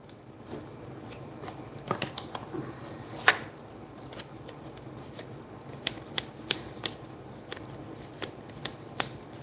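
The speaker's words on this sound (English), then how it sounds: "let me shuffle one more time" Soft papery riffling and sharp intermittent snaps as tarot cards are shuffled and tapped, with no talking.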